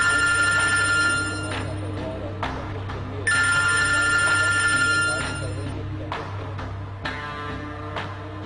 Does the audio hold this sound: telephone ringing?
yes